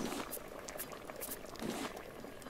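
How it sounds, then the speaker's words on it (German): Liquid simmers and bubbles on a cooker in the survival game Raft, a soft, steady burble of popping bubbles at low level with no talk over it. "Oben tut's köcheln."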